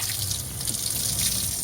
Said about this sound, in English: Now to get started, we turn on the water.